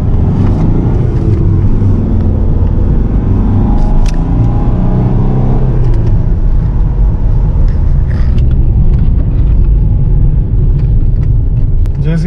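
A diesel car engine roars steadily as it accelerates, a deep continuous rumble close by, with a voice talking faintly over it.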